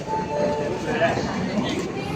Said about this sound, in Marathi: तर ही आहे आपली ट्रेन जी लागलेली आहे. चाललेली आहे.